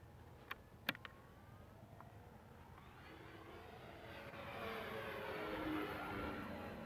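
A Dynam Focke Wulf Fw 190 RC model plane flies outdoors. Its faint, distant motor whine slowly grows louder and sweeps past, with a few sharp clicks at the start.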